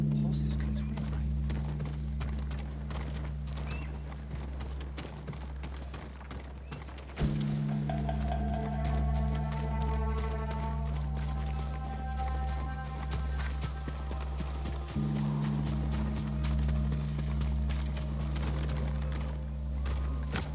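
Horse hooves walking and breaking into a run in the samurai game Ghost of Tsushima, a steady clip-clop of rhythmic footfalls under a continuous low game score, with the pace changing partway through.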